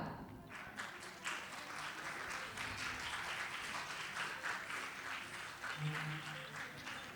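An audience at a Janjati Gaurav Diwas celebration marking Birsa Munda's birth anniversary applauds a second-place prize winner, steady crowd clapping heard fairly faint and continuous throughout.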